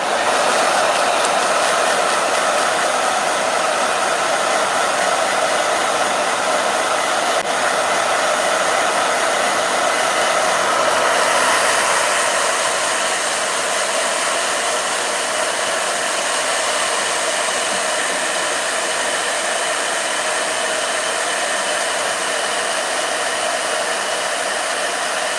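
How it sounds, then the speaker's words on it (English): A blow dryer runs continuously close by as hair is dried, a steady loud whooshing hum that holds nearly unchanged for the whole stretch, with only slight shifts as the airflow moves. "Okay. Blow dryer."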